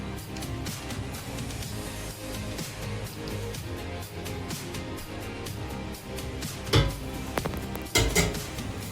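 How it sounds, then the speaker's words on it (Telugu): Paneer pieces go into a pan of hot oil, bringing soft frying crackle under repeated clinks and scrapes of a utensil against the pan, with a couple of louder clatters near the end. "అసలు నూనె వేడైన తర్వాత ఈ పన్నీర్ ముక్కలు వేసుకోవాలి."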